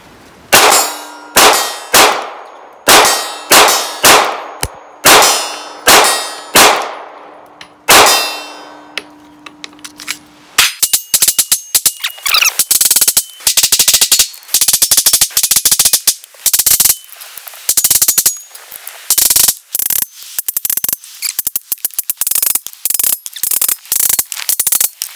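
A Ruger LCP MAX .380 pistol fires with iron sights during a torture test. About nine loud single shots ring out with metallic clangs, followed by long rapid strings of sharp reports.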